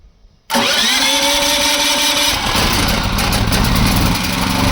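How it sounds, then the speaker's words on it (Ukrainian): A Champion 7.0 kW dual-fuel generator (CPG7500E2-DF-EU) running on LPG gas starts with an abrupt loud catch after a brief quiet moment, then settles into a steady, close mid-pitched engine drone. "Відкриваєте, вставляєте відкриваєте подачу газу і запускаємо."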